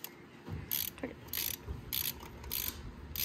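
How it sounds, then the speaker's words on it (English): A torque wrench ratchets while tightening a spark plug in a Mini Cooper S R56 N18 engine, producing a series of crisp clicking bursts in a steady back-and-forth rhythm, close by. "we're gonna get in there and we're gonna torque it"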